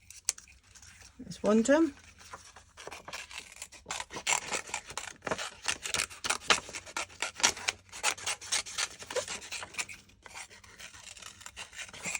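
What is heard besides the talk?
cutting out Christmas card with scissors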